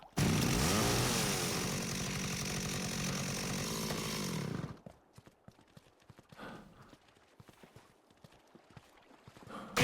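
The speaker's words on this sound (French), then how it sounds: "je vais me lâcher une tronçonneuse, vu que j'en ai une qui dure bien longtemps maintenant" A loud chainsaw engine in the video game Dead Rising Deluxe Remaster roars for about five seconds, then cuts off, leaving faint scattered clatter and quieter noises.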